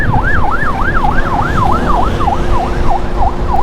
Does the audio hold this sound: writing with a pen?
no